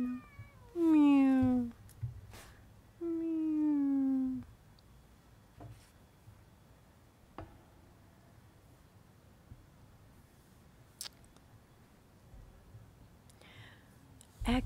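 A cat meows twice in close succession near the start, each a loud drawn-out call, then only faint room noise and a few soft clicks follow.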